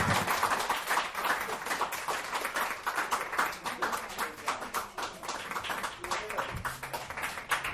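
An audience at a dive bar comedy show applauds a comedian with dense, steady clapping that continues throughout and is mixed with a few cheers.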